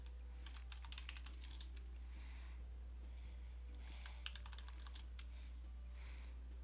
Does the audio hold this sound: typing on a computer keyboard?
yes